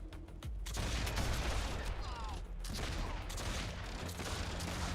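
Machine gun turrets firing in the Warhammer Online game, a dense, continuous rattling burst of gunfire that starts abruptly and holds loud and steady.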